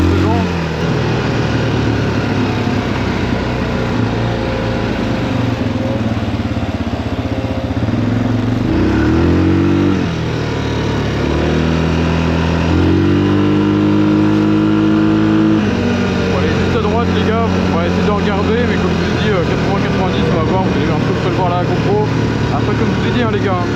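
Yamaha 350 motorcycle ridden through a forest, its engine and exhaust loud and close, revving up and down through repeated throttle swells, with someone talking over the ride.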